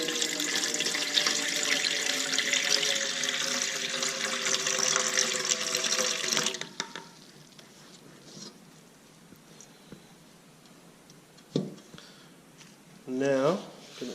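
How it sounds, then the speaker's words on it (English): Homemade honey whiskey mash pours in a steady, splashing stream for several seconds, then stops, leaving quiet clinks and a short burst of voice. "I'm going to pour a little bit out."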